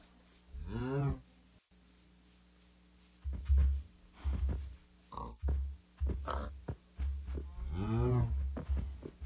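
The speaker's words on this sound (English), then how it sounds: "Pigs." Minecraft pigs in the Java edition, heard as a few short, close oinks and grunts over an otherwise quiet game scene, two longer calls near the start and end with scattered brief snorts between.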